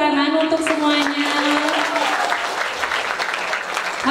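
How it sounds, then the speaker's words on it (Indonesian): Students and teachers at a school project event applauding together, a steady crowd of clapping with a sustained tonal hum running under it. "Tepuk tangan untuk semuanya"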